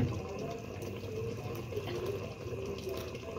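Rose water and kewra water, half a spoon each, trickle into a pot of mutton biryani, a soft continuous splashing and pouring close by against a steady kitchen background.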